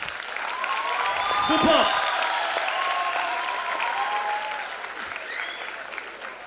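Audience applause for the regional quiz champion at a live quiz finals in Indore, a sustained dense round of clapping that swells and lingers while a voice speaks briefly over it.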